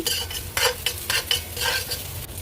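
Onion with a green chilli sautéing in a pan, sizzling under repeated spatula strokes that scrape in a loose rhythm of about half a dozen distinct pushes, close and fairly loud, no voices.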